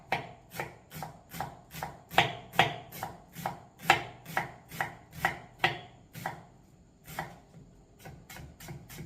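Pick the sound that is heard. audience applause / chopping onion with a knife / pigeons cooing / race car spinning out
chopping onion with a knife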